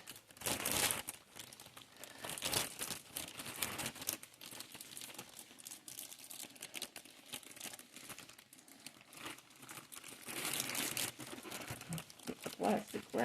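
Plastic wrap crinkles and tears as it is pulled off a new sewing machine, with loud rustling bursts near the start and again toward the end.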